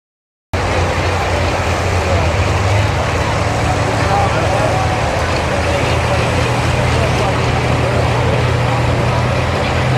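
A 10,000 pound pro stock pulling tractor with a fast fuel system idles steadily and loudly close by, a dense continuous engine drone with a low hum, at a Champions Tour pull in Mound City, Missouri.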